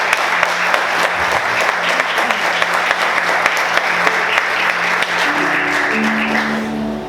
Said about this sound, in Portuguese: Vamos aplaudir Jesus bem forte, glórias a Deus